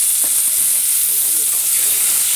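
Rice tipped into a hot pan for koshari sets off a steady, fairly loud sizzle and hiss that fills the short stretch close up, with no talking over it.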